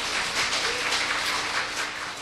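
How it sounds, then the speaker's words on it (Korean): A church congregation at a mothers' prayer meeting claps in welcome for a pastor, a soft, steady wash of applause that sounds somewhat distant. "여러분의 사랑을 담아서 환영의 박수로 모시겠습니다"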